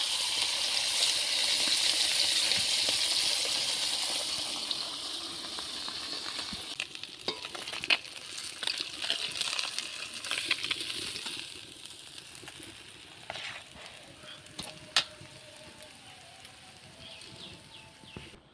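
Fish frying in hot oil, a bright hissing sizzle that is strongest at first and gradually dies down, with scattered clinks and taps of a utensil against the pan later on.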